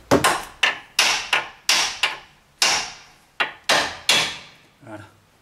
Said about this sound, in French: Pour faciliter sa sortie, on peut taper sur les bords.